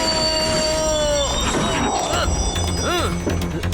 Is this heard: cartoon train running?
yes